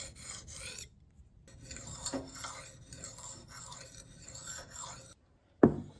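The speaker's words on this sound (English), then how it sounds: "this was the finishing stone that I use on all of my knives, and it gets things razor sharp" A knife forged from a 200-year-old horseshoe is drawn across a finishing stone in short rasping strokes, several passes broken by brief pauses, close and quiet, with a sharper scrape at the very end.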